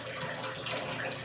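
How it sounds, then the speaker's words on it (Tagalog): Water runs from a weak tap into a bucket, making a steady, soft, unbroken hiss. "kaya nag-iipon ako ng tubig kasi hindi makaakyat yung tubig sa taas."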